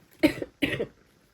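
Two short, dry coughs from a woman still recovering from an illness, close and clear with a brief pause between them, then quiet.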